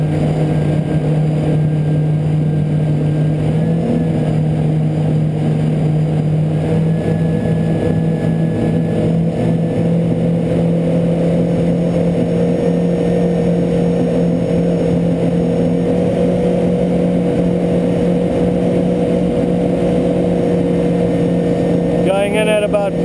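Jet ski engine revving steadily at about 5,000 RPM while fishing at sea, a loud continuous motor drone with water rush throughout, and a brief rattle near the end.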